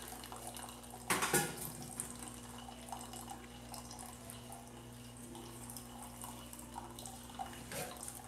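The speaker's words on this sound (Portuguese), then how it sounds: "café saindo quentinho" Hot coffee pours out of a coffee maker in a steady liquid trickle, with a brief louder splash and clatter early on and another near the end.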